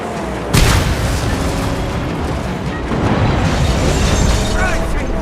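A fuel tank explodes in a video game based on a movie: a sudden loud boom gives way to a continuous roaring rumble of fire and debris that fills the whole stretch.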